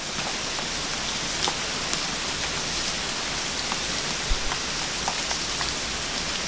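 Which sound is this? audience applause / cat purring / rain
rain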